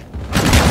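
A burst of rapid video game gunfire erupts suddenly after a quieter start, loud and close, rattling for under a second during a live stream.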